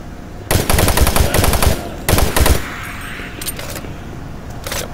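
Machine gun fire in the Doom 3 video game comes in two loud, rapid bursts of close rattling shots, followed by quieter ambient game sounds and a couple of brief clanks.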